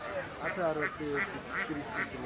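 Ducks quacking at a traditional village market in Fatullah, Narayanganj, Bangladesh, about five evenly spaced quacks close by under people talking.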